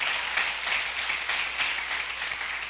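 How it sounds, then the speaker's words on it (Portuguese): A church congregation applauding during a Portuguese-language sermon, steady crowd clapping that holds at an even level for a few seconds, moderately distant, with no voice over it. "Querida, aplauda ao Senhor por essa palavra"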